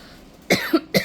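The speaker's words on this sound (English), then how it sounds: "Excuse me for coughing in your ear." Two sharp coughs, close and fairly loud, separated by a brief pause after a quiet start.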